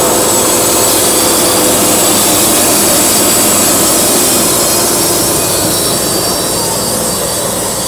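Loud, continuous grinding roar of a sawmill saw cutting wood at a forestry show, with a steady whining motor underneath, close and unbroken throughout.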